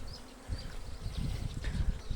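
Steady insect buzzing from many honeybees at an apiary, a continuous low drone with no voices, fairly close and moderately loud.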